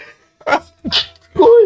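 A sharp, close sneeze bursts out in quick parts, a short intake followed by explosive snorts, with a brief voiced sound at the end.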